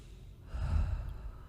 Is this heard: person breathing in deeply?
yes